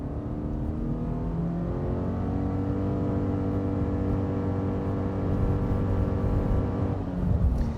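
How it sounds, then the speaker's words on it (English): A 2026 Subaru Forester Wilderness in Sport Sharp mode, start-stop off, accelerates hard from 0 to 60, its engine drone steady and rising in a continuous interior hum with a slight swell near the end. "Let's try another 0 to 60 run here."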